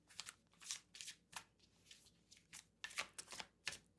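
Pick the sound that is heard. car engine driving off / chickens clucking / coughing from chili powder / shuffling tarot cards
shuffling tarot cards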